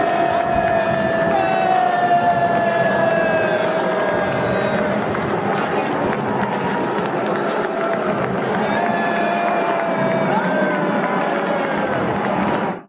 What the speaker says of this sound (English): Here is another angle of Donald Trump getting booed as he takes his seat